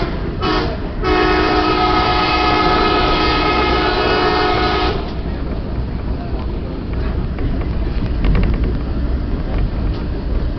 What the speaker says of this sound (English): About to hear the train horn a lot here in the next couple minutes